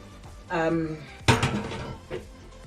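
A pot lifted off the stove and drained into a strainer, with a clank of metal on metal, a short pouring rush and a final knock, while a person talks over it.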